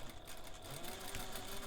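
A sewing machine runs a short burst of stitching along a half-inch seam on a Loule bag, a steady mechanical whir close by with no talking.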